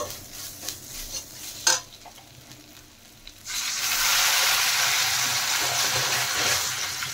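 Water goes into a pan of mustard fish curry masala, with a loud, steady sizzling hiss rising sharply after a few seconds of quieter stirring and clinks and holding strong to the end.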